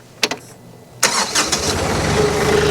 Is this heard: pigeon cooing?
no